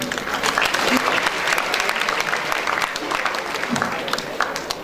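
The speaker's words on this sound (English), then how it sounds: "I can see why everybody clapped, by the way." Audience applause after a speech at a business conclave, a dense, steady wash of many hands clapping throughout, fairly loud and close, with faint voices mixed in.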